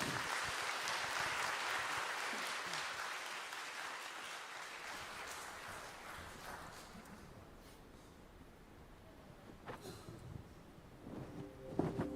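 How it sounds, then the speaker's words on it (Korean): Audience applause in a church service greeting the choir before its song, a broad steady clapping wash that gradually thins and fades, ending in a few scattered claps. "여러분 박수로 맞이해 주시기 바랍니다"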